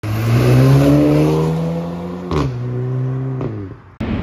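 A 2022 BMW G80 M3 engine revs loudly and close by, its pitch climbing and holding, then dropping with a sharp shift before settling at a steady high rev that cuts off abruptly.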